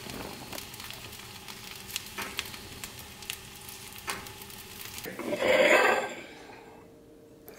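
Cooking food sizzles from a hot oven, a soft crackling hiss under faint clicks that swells to a louder, frying-like burst before fading away.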